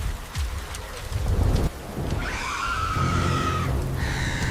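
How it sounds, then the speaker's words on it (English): Thunder rolls across a floodplain in a deep low rumble while rain pours steadily, joined by a loud surge of storm noise and a rising whine layered over the downpour. "thunder begins to roll across the floodplain. Rain transforms dust into mud"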